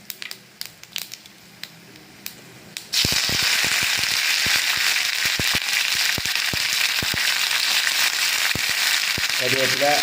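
Dried red chillies and curry leaves dropped into hot oil for kalan, a sudden loud, continuous sizzle with sharp popping crackles after a few quiet clicks, a voice speaking briefly near the end.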